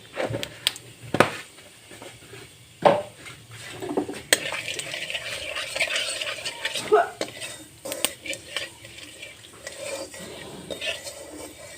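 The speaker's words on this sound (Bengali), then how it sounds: "জিরে জিরের ফোড়ন দিচ্ছি আমি" Cumin seeds and ginger tempering in a little oil in a pan for a village-style vegetable and fish dish, with utensils scraping and clinking against the pot in uneven bursts at close range.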